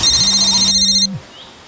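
A mobile phone ringtone sounds loudly up close, a bright electronic ring with a sustained tone that cuts off abruptly after about a second, leaving quiet room noise.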